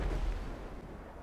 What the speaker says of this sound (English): I shot a rocket